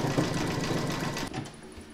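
An embroidery machine sews a satin stitch around a cross appliqué, a steady, fast mechanical whir held close and loud, dipping briefly near the end before running on.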